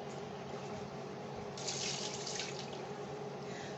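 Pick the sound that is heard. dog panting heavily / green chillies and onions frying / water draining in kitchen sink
water draining in kitchen sink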